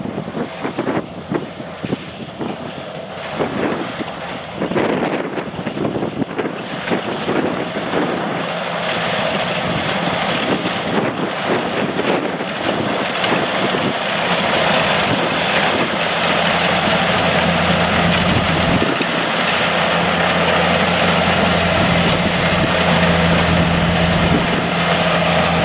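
Two Kubota rice harvesters run in a field during the IR504 rice harvest, giving a steady, loud mechanical drone with broadband rumble and wind buffeting, continuous throughout and without speech.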